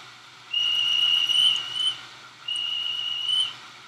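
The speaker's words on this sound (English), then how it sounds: "There goes the whistle again." A train whistle in a Roblox railway game gives two long, steady high-pitched blasts, loud and clear over a faint background, with no voices.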